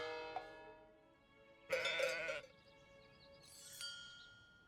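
Sheep in the trading and building game Let Them Trade give two short, bright bleats apart from each other over a quiet ambient bed.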